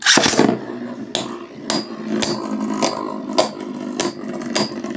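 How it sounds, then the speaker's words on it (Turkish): Hasbro Beyblade tops, including Flame Byxis, clatter against each other in a plastic arena, producing a rapid series of sharp clacks and knocks over a whirring rattle, close up. "şu an aslında bu saat içinde epey bir ses çıkıyor Beyblade'lerden"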